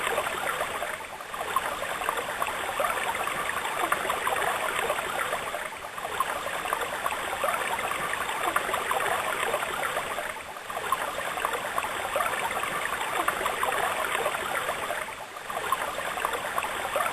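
Water runs downhill from a rainwater tank to turn a Pelton wheel dynamo, making a steady, even rushing flow that fills the whole stretch with no voices.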